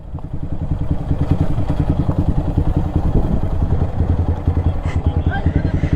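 A Yamaha R15 motorcycle engine runs close and loud, a steady throbbing idle with a rough pulsing beat and light mechanical clatter throughout.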